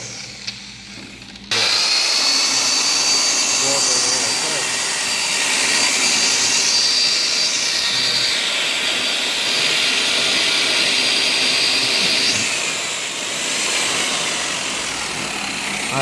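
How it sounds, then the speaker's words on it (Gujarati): An electric mixer machine whirs loudly and steadily as it stirs wall putty into water in a bucket, starting up abruptly after a quieter moment, with the motor pitch wavering under load. "તો જો આ ફેરવું છે મશીન. પહેલાં એવી રીતે મશીન ચાલુ રાખવું પડે."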